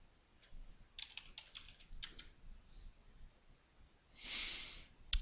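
Keys clatter in short bursts on a computer keyboard as a user ID and password are typed in, quiet and close, followed by a breathy exhale and a final click.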